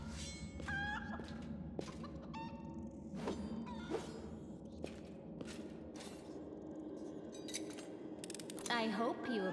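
A chicken clucks in the video game Pathfinder: Wrath of the Righteous, with several short clucks in uneven bursts over a busy game soundscape with clinking sounds and faint voices.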